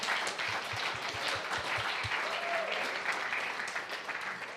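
A church congregation at a Sunday service applauds with steady, dense clapping from many hands that fills the room at an even level throughout.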